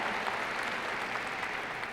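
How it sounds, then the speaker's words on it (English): Commencement ceremony audience breaking into applause, a dense, even wash of clapping from a large crowd that stays at a constant level throughout. "Yes, he does deserve a round of applause."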